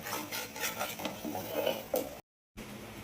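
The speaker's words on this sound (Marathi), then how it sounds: "असं पुरण भाजून घ्यायचं." Puran, a sweet lentil filling, is stirred and roasted in a pan, with scraping strokes and soft clinks of a spoon against metal, close and fairly loud, before a brief cut to silence.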